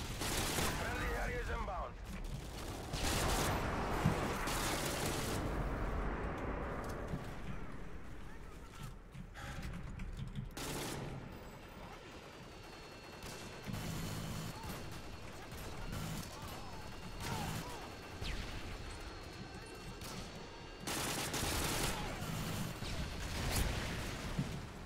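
Rapid bursts of gunfire from Call of Duty: Modern Warfare 2 multiplayer, loud and dense with repeated volleys and explosions, while a player talks over the game.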